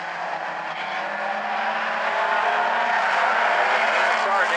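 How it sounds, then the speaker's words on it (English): Mini stock race cars running side by side on an oval at South Sound Speedway, a sustained blended engine roar that swells slightly louder, heard under continuous commentary. "Christina McMillan and Grant Turness continue to run side by side."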